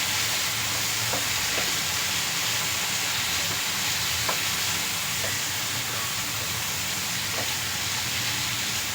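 Tomato going into a sizzling tempering of spices in a pan, cooked for a basmati rice dosa with vegetable palya; a steady loud fry hiss runs throughout, with a few faint clinks of stirring, no talking.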